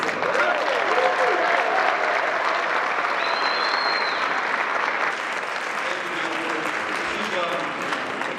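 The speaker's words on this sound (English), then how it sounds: "Let's give one last round of applause for our wonderful MC, Parkette." A crowd gives a final round of applause for the MC at a weekend gathering, a full, continuous roar of clapping sustained at steady volume from start to finish, with a few voices and whoops faintly audible within it.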